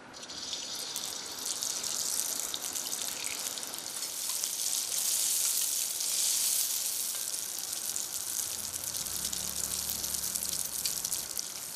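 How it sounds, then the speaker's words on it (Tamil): Appam batter ladled into hot oil and ghee on a low flame for Karthigai deepam appam, giving a steady, close frying sizzle with bubbling that holds evenly throughout, a faint low hum joining near the end. "இப்ப இந்த மாவை நான் கரண்டியில கொண்டு ஊத்துறேன்."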